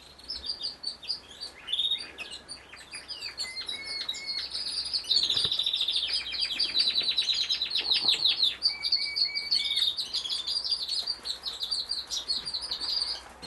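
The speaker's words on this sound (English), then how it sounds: "But that's our birds, the birdies." Birds chirping busily in a garden, rapid high tweets and trills overlapping in bursts, fairly close and continuous throughout.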